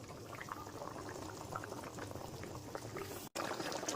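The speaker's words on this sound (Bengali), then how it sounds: "ঝোল আমার ভালো মতো ফুটে গেছে" Fish chop curry gravy boils in a pan, a close, continuous bubbling and simmering with soft popping, interrupted by a brief silence near the end.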